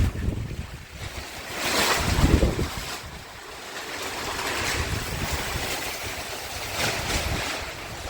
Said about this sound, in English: the wind is still going insane